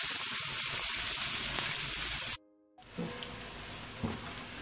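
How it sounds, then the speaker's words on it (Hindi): Onions frying in a pan, a dense steady sizzle that cuts off briefly, then comes back quieter with a few soft knocks of stirring. "गोल्डन ब्राउन कर लेंगे हम प्याज को।"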